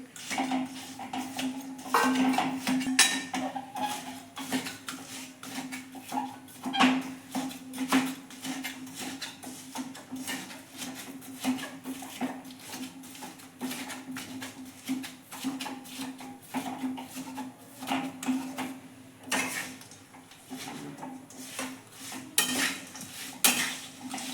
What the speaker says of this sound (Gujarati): હવે આપણે ગોળ નાખી દઈશું.